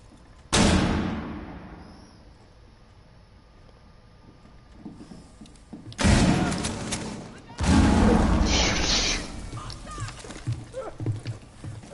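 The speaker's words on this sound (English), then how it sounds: "tossing a flashbang" A flashbang and gunfire in Rainbow Six Siege: a sharp blast rings out early and fades into a high whine, then heavy booming bursts arrive later. A player talks over the game audio.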